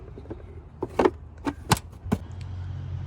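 A plastic fuse box cover on a Toyota Scion FR-S is lined up and pressed shut, giving a few close, sharp clicks and knocks in quick succession over a quiet interior.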